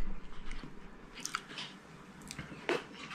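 Someone bites into and chews a Japanese donut close up, a soft crunch and moist chewing with a couple of sharper bites.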